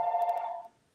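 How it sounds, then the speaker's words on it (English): A single old-fashioned telephone bell rings once, ringing tone at close range that fades out abruptly after about two thirds of a second, with no talk over it. "I'm sorry about that phone there."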